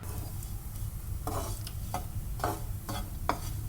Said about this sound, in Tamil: கொஞ்சம் வறுத்து கொடுத்துக்கலாம்.